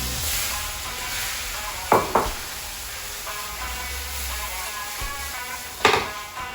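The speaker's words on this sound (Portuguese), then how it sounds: "iremos adicionar um pouco de manteiga, mais um fiozinho de azeite e iremos entrar com a nossa cebola e com o nosso alho" Onion and garlic frying in butter and a drizzle of olive oil, a steady soft sizzle throughout with a few sharp clinks of a utensil against the pan near the start and end.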